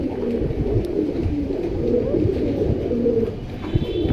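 Pigeons of a paired breeding collection cooing at a bird seller's place, a continuous low warbling coo from several birds close by, with no talk.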